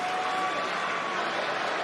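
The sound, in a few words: wrestling arena crowd cheering for Jey Uso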